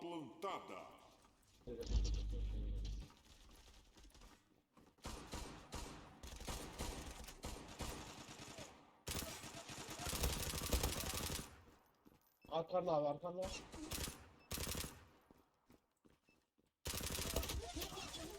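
Gunfire in the online shooter Zula comes in bursts of rapid automatic fire and single shots, separated by short pauses. A player talks over the shooting.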